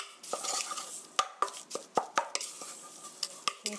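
A meat and vegetable mixture with egg and black pepper for green hot pepper pancakes is stirred in a bowl. The stirring comes as repeated close scraping and clinking strokes in a quick, uneven rhythm, with no talking.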